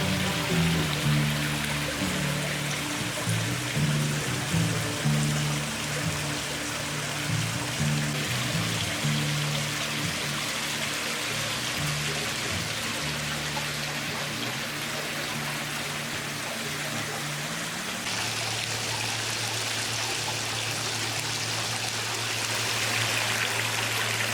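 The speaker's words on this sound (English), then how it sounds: "this is awesome, a petrified wood waterfall" Continuous gentle trickling and splashing of a small indoor petrified wood waterfall, steady and close, with a low hum underneath.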